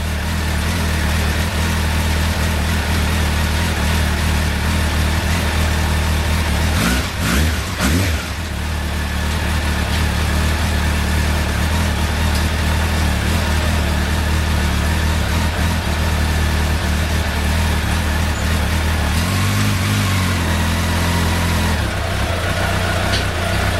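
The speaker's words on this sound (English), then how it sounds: "Let it idle for a little bit." A Suzuki Bandit 1200 motorcycle engine idles after a valve check and service, a loud, steady close-up rumble throughout, with a brief blip of revs partway through and a slight change in pitch near the end.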